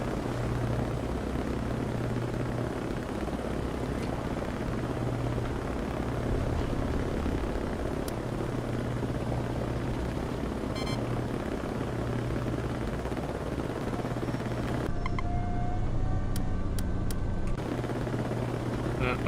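A helicopter in the Nuclear Option flight game gives a steady low rotor and engine drone that runs the whole time. A brief electronic burst sits near the end.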